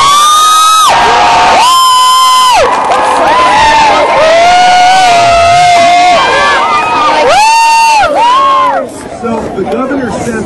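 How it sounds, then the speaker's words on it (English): A crowd of children whoops and cheers with loud, high shouts and excited babble at a school ribbon-cutting ceremony for a wind turbine, the cheering coming in bursts with clapping mixed in. "So let's give them a round of applause."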